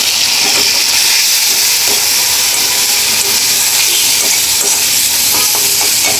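Cabbage, frozen carrot, ginger, garlic, onion, green chilli and a splash of soy sauce stir-fry for fried rice, a steady loud sizzle and hiss with faint scraping stirs throughout, no talk.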